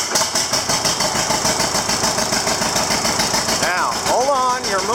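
A John Deere 730 LPG tractor engine chugs steadily with a rough, knocking idle close by, then a brief voice speaks over the running motor near the end.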